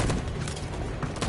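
Gunfire in the video game Detroit: Become Human, a dense burst of shots packed together into a loud, continuous rattle lasting barely over a second with no pauses.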